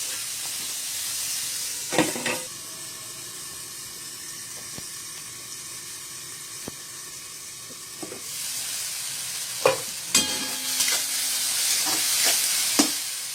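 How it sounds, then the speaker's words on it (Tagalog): Tomatoes cook in a hot pan for squid adobo, giving a steady low hiss of sizzling throughout, broken by a few sharp clacks and scrapes of a utensil stirring, louder near the end. "Lutuin lang po natin ng konti yung kamatis."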